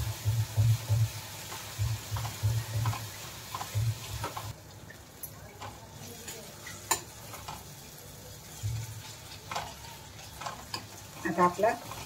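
Cooked tomatoes being pressed and mashed in a pan for a Khandeshi sev bhaji masala, giving soft rhythmic scraping, stirring and squishing over a low sizzle, fairly faint and close.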